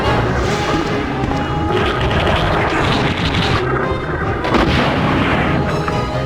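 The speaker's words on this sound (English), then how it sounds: "we still have the rocket launcher. It kills everything in one hit," Rocket launcher blasts against the final boss in Resident Evil 2, heavy booming explosions and rumbling impacts loud and continuous across the clip, with no voice.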